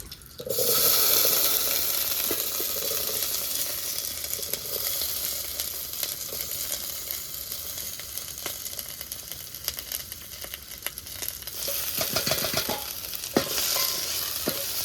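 Vegetables and raw tomatoes sizzle and crackle steadily in a hot pan, with occasional stirring scrapes and clatters, close and fairly loud.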